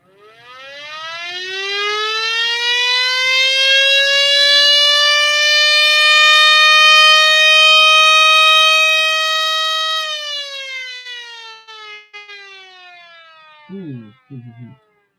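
A mini model siren assembled on a breadboard winds up into a loud, steady harmonic wail, holds its tone for several seconds, then slides down and cuts off, followed by a brief sputtering restart near the end.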